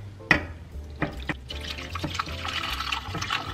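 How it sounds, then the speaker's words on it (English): Pot roast juice is poured into a pan to make gravy: a quiet trickle with scattered drips and small splashes, plus a sharp clink near the start and a few soft knocks. "I am going to pour the juice right in here"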